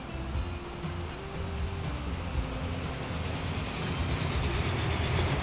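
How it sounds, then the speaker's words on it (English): Trains in the Transport Fever game rumble steadily, one departing and another arriving, with a continuous low rolling drone and faint wheel clatter at moderate loudness, no talk. "we'll watch this just for a few seconds as that train comes out, this train comes in."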